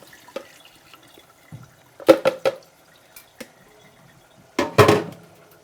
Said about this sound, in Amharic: ስለዚህ ውሃው እንዲያጠነፍፍ እንደዚህ